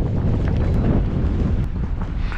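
Strong wind buffets the microphone on a boat while flounder fishing, a loud, steady roar of gusts with no talk over it.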